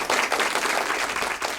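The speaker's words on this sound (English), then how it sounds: "I'm going to pause here for the applause." Applause from the audience at a 2020 virtual high school graduation ceremony, a dense, steady wash of many hands clapping that continues without a break.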